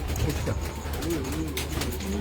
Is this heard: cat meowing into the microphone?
no